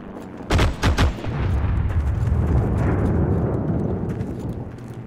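Gunfire in the Heroes & Generals infantry game: two sharp, loud shots in quick succession, followed by a long rolling, rumbling echo that fades slowly.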